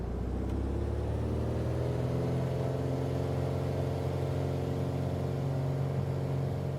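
A Piper PA-28 Arrow III light aircraft engine in Microsoft Flight Simulator 2024 drones at a steady, even pitch as power is set for takeoff, a constant low mechanical hum with no voices.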